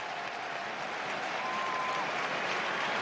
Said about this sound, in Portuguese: Sai muito aplaudido o Sávio pelo torcedor japonês